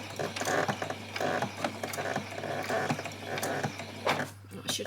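A sewing machine runs a hem along a tiny doll's tabard in short, rhythmic whirring bursts separated by brief pauses. The mechanical stitching sounds close and moderately loud.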